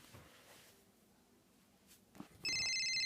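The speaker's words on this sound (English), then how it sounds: "Uh-oh, the phone's ringing." After a quiet stretch with faint rustling, a telephone begins ringing with a bright, steady electronic trill that cuts in suddenly and continues loud and close.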